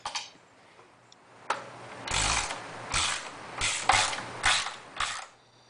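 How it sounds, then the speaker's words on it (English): Screws on the rear fender of a Ducati Monster 696 are loosened with an Allen wrench, giving about six close ratcheting clicks and creaks in short bursts with quiet gaps between. "I use a second Allen wrench for the anchor screws underneath."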